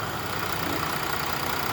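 A vehicle engine running steadily during EGR system cleaning, a broad even idle rumble with hiss close by, no talking.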